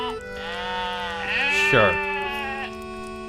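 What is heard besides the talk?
sheep bleating in video game Lord of the Rings Online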